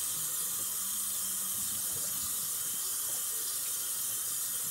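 Water runs from a sink faucet in a steady, even hiss, close and unbroken, with faint low clunks underneath and no talking.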